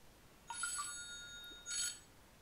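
A telephone rings in two short electronic bursts separated by a pause, faint and thin over a low background hiss, with no talking.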